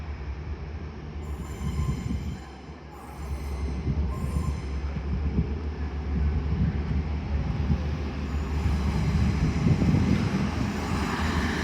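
A diesel passenger train, 180-106, departs York station for London King's Cross, its rumble and wheel noise building gradually over several seconds with faint high squeals, no voices.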